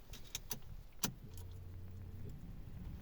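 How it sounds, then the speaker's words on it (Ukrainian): A car being started while leaving a vehicle service centre lot: a few faint clicks and a thump, then a short, steady starter whir lasting about a second, all quiet and close. "Ми завели наш автомобіль."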